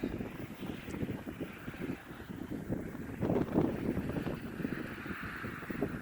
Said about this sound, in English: it's really windy up here, so sorry if the wind is really loud